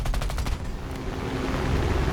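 Rapid machine gun fire from a fighter plane in War Thunder, a fast burst of evenly spaced shots at the start that stops within about half a second, leaving loud, steady engine and wind roar.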